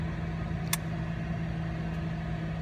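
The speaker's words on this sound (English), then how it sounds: "I have my AC completely blasting because it is so hot right now" Car air conditioning blasting on a 104-degree day, a steady droning hum with a constant low tone, heard alone from inside the car.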